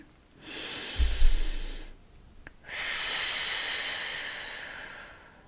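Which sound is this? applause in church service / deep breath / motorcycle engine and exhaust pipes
deep breath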